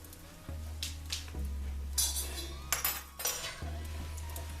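Metal lid set onto a cooking pot holding burning coal with ghee, giving several clinks and knocks over a steady low hum, for smoking chicken malai tikka.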